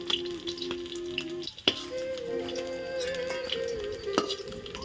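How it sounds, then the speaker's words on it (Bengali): Puti fish frying in oil in a wok, a continuous crackling sizzle with occasional sharp pops and clinks, close and moderately loud, no talking. "মাছটা কিন্তু এখন ভালোভাবেই ভাজা হচ্ছে"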